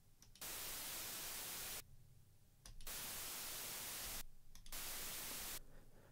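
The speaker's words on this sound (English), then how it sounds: "it adds that kind of hissy noise that you equate with with analog hardware" Hissy analog-style noise from the Studio One console shaper, bursts of broad static hiss switching on and off in blocks of roughly one to two seconds, faint and alone.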